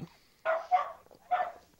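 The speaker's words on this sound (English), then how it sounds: "that is my unhappy dog, lady, barking her head off" A female dog barks three times in sharp, loud bursts close by, with a short gap between the second and third, and a faint sound just before the first.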